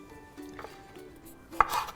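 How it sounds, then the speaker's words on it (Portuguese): A kitchen knife chops vegetables on a board in a few soft, scattered strokes, with one sharper, closer cut near the end. No voices. "Pegar uma faca, picar os legumes, sair um pouco da minha mente, sentir textura."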